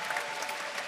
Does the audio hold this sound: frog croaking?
no